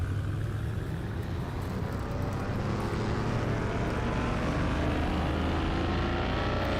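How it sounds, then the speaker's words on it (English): A car engine idles and revs steadily in the video game Car Mechanic 2021, a loud continuous droning rumble filling the whole stretch without a break. "The engine does sound good though. I like that. That is pretty decent sounding engine right there."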